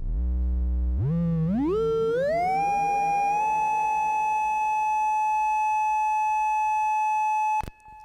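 Make Noise Strega synthesizer with its function patched in at audio rate, producing a loud electronic tone that steps upward in pitch over several seconds, then holds steady and ends with a brief click.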